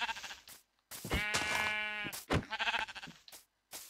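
Sheep in the Minecraft video game bleat in clear, close, quavering calls, two or three in a row with short gaps.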